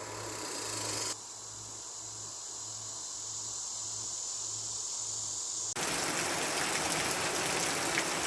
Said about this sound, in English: First rain is here.